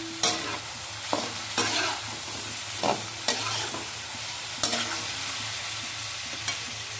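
Broccoli stir-fried with chicken and tofu in a pan: a low steady sizzle broken by a series of sharp clanks and scraping bursts from stirring, moderately quiet and close, with no voices.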